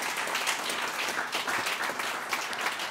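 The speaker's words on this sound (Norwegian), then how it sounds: "Applaus til Høyre på Stortinget" An audience at a climate breakfast meeting gives a room-filling round of applause to a Høyre speaker, with even, continuous clapping for a few seconds.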